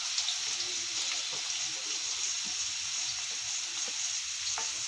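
Sliced onions and two slit green chilies fry in a pan with an even, dense sizzle and faint stirring ticks, close up, with no talking.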